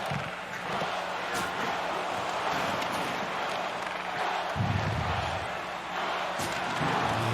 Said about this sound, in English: You hear from the crowd, "Go Geese,